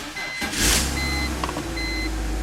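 BMW 325i engine starting after a fuel pump replacement, a brief crank and catch followed by a steady running idle, with short chimes from inside the car.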